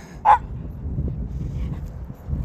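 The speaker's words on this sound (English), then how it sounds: "Hang on, I got another dog in my way." A single short dog bark sounds near the start, moderately close, followed by a low background murmur with no further barking.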